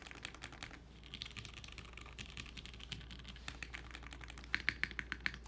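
Rapid clicky keystrokes on a custom-built mechanical keyboard, close and crisp with a tight, rounded tone, typed in an uneven stream that turns into a quicker, louder run at the end.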